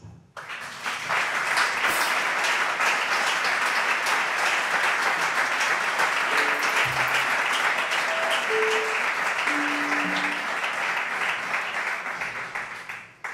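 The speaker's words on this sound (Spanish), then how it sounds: "por favor, un aplauso" Sustained audience applause at a jazz trio concert, a dense, loud wash of clapping that holds steady for about thirteen seconds before tapering off, with faint voices calling out underneath.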